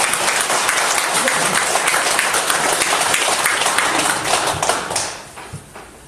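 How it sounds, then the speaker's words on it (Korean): A church congregation at a Friday evening worship gathering breaks into loud, dense applause that carries on for about five seconds and then tapers off into a few scattered claps. "박수 한번 주십시오."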